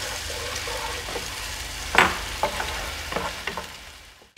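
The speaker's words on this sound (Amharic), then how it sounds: "ከዛ ነጭ ሽንኩርትና ዝንጅብላችን ጨምረን በደንብ እንጠብሰዋለን።" Onions, garlic and ginger frying in oil in a pan, a soft continuous sizzle broken by several sharp scraping stirs of a utensil against the pan, close and fairly quiet.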